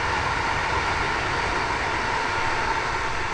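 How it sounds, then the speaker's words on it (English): A train hurtles through open countryside, a dense, loud continuous rushing roar filling the whole moment. "behind me, a train"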